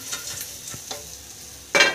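Mandeli fish frying in a shallow layer of oil gives a soft crackling sizzle with a few scattered pops, then a sudden louder burst of spattering near the end, close by and with no voices.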